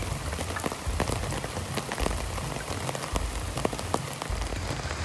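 Steady rain pattering on a Hennessy Expedition Asym ZIP hammock tarp, a dense, even patter with sharper individual drops ticking throughout, close and continuous with no voices.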